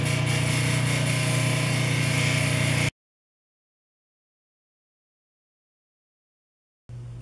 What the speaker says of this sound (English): I'm going to sand this on the pneumatic sander and see how it looks for eyes